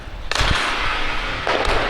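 Ice hockey slap shot with the puck struck too far forward on the blade, giving two sharp cracking impacts about a second apart, each trailing into a brief scraping wash, loud and close with no talk.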